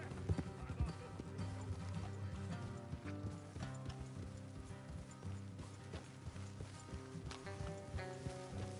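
Horse hooves clip-clop at a steady walking rhythm in Red Dead Redemption 2, moderately near, under a busy bed of game music and sound effects with speech mixed in.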